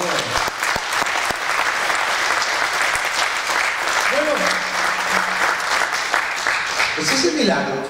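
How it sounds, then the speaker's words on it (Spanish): A church congregation applauds the Lord in a steady, dense wash of clapping that fills the room for several seconds, with a voice briefly rising over the crowd partway through. "Un aplauso al Señor"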